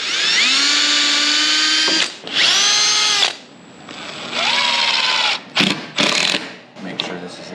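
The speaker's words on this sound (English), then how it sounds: "Drill our pilot." A power drill bores a pilot hole while building a farm feed room, whining in several bursts of varying length as the trigger is pulled and released, with short pauses and brief talk between runs.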